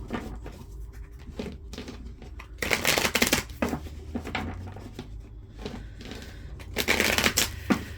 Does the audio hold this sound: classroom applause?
no